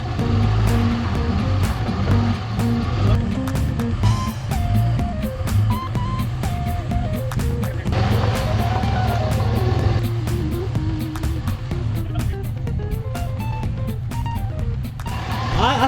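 A four-wheel drive truck towing an RV maneuvers slowly through a tight turn, its engine a steady, loud low rumble throughout with shifting tonal whine and clattering over the top.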